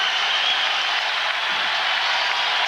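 A sellout crowd at a 2007 Major League Baseball game between the A's and the Giants roars steadily as fans rise to their feet, a dense, continuous wash of cheering with no break.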